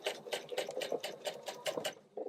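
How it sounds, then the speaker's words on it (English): Sewing machine stitching two fabric pieces for an ottoman pouf, running in a fast steady rhythm of rapid needle strokes with short pauses while back tacking a corner, close and clear with no voices. "I'm going to start sewing again. I'm also going to back tack on my corner."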